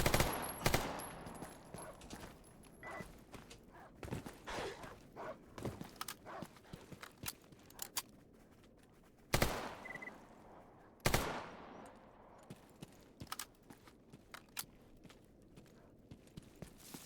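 A video game machine gun nest fires bursts of rapid gunshots, a few louder sharp cracks standing out among irregular clattering shots spread across the scene, with no talking.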